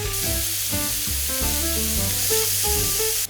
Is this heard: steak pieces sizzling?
yes